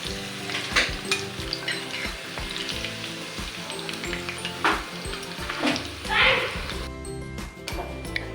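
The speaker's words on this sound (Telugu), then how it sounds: "సో మీడియం ఫ్లేమ్లోనే ఇంకా కొంచెం గోల్డెన్ బ్రౌన్ రావాలి కలరు." Chicken pakoda pieces deep-fry in oil over a medium flame, sizzling loudly and continuously up close, with a few sharper bursts and spatters while a voice talks over the frying.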